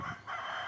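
A rooster crowing among free-ranging desi chickens out foraging on grass, one loud close crow held steadily across the short moment.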